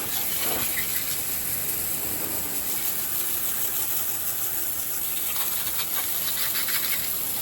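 Water sprays steadily onto a car wheel, rinsing off brake dust after scrubbing, a continuous close hiss with an engine idling faintly beneath and no talking.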